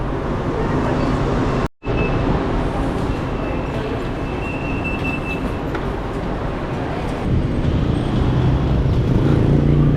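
A steady, loud roar of heavy road traffic in Malaysia with engines rumbling continuously, broken once by a brief drop to near silence early on.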